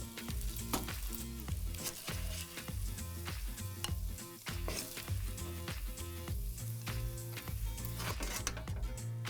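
Green onion and lamb sizzle steadily in a hot pan, with an even frying hiss broken by frequent clinks and scrapes of stirring, close and continuous, with no voices.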